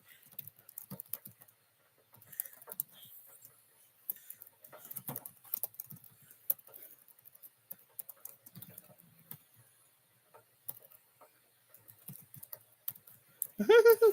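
Typing on a computer keyboard, faint scattered keystroke clicks in irregular bursts across the whole stretch, close and quiet.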